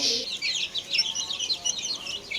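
Hens and their chicks cluck and cheep together at close range, a busy overlapping chatter of high peeps over soft, lower clucks that carries on without a break.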